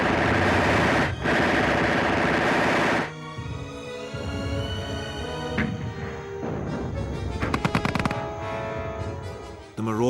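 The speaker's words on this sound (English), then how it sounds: "Then the machine guns and mortars open up." Wartime machine guns and mortars firing in jungle combat, with heavy bursts of loud fire at the start giving way to scattered shots and rapid clattering volleys later, mixed with a musical score.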